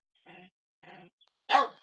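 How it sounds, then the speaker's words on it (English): A pet dog barks indoors: two short muffled woofs spaced apart, then one louder, sharper bark close by, with silence between them and no talking. "What are you barking at?"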